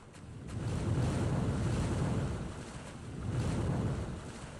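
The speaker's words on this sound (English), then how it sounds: "Twice a day, these tides wash along the shore." Ocean tide waves wash along the shore at Hopewell Rocks in New Brunswick, two broad swells of surf rising and falling with wind buffeting the microphone, no voices.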